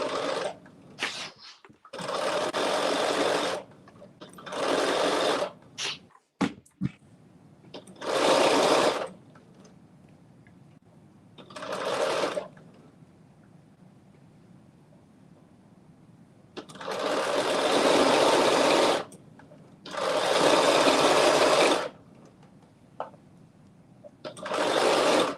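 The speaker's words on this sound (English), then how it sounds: "And back, quick back stitch." A sewing machine sewing ruffle pants runs in a series of separate close whirring bursts of varied length, including a back stitch, with quiet gaps and small clicks between them and a brief voice near the start.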